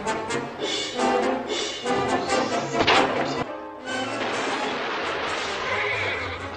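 A horse whinnies amid chaotic action sounds from the 1962 Western film Ride the High Country, with loud bangs and crashes and a clattering commotion.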